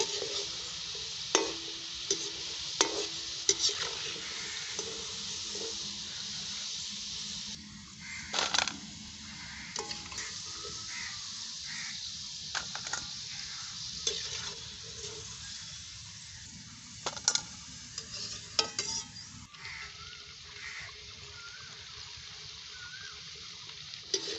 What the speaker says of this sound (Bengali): বিস্কুটগুলো কিন্তু দেওয়ার সঙ্গে সঙ্গে অনবরত নাড়তে থাকবে